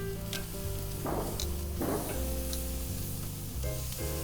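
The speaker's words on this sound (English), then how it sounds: "Let that sizzle until you see a little bit of grill marks" Marinated beef short ribs sizzle and crackle steadily on a hot charcoal grill, a continuous frying hiss with occasional louder pops and a low background hum.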